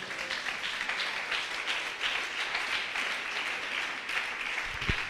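A church congregation applauds loudly and steadily, dense clapping filling the room without pause and with no speech over it.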